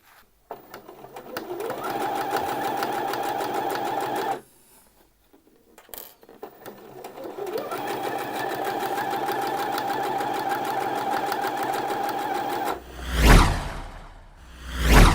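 A sewing machine stitches a line down the short edge of Thai wrap trousers in two steady whirring runs split by a brief pause. A few whooshing handling noises come near the end.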